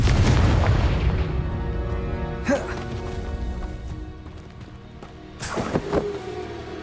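Confringo fire spell explosions in Hogwarts Legacy on Nintendo Switch: two booming blasts a few seconds apart, the second followed by crackling debris, over a low rumbling game soundscape.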